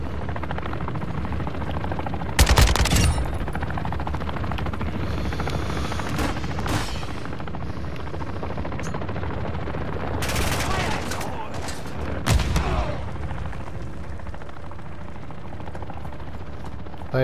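Call of Duty gunfight with a helicopter: a loud, steady rotor drone runs throughout while sharp bursts of automatic gunfire and heavy shots break through at intervals, close and intense.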